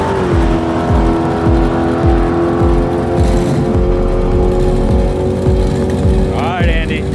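Turbocharged rat rod drag car idling loudly with a steady, rapid rhythmic lope and a slight shift in engine pitch near the start, plus a brief whistling sound near the end.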